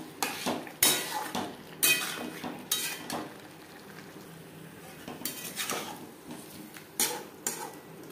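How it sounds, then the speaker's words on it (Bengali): Boiled potatoes tumble into a pan of spices for alur dum, with a series of sharp metallic clinks and scrapes from a spatula stirring against the pan in irregular bursts, close and fairly loud with no talk. "দিয়ে দেব সেদ্ধ করে রাখা আলু।"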